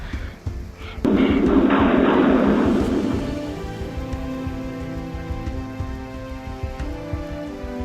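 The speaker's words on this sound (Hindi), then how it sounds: "तुम देख रही हो बारिश कितनी तेज हो रही है।" Heavy rain pours steadily, with a louder rushing surge early on before settling into a constant hiss.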